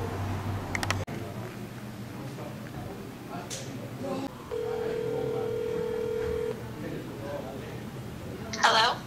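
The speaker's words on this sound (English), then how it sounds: "I'm just gonna prank call Coach O right now" Telephone dialing for a prank call: short phone tones and a sustained ringing or dial tone heard up close over a handset, with quiet background noise and a person speaking near the end.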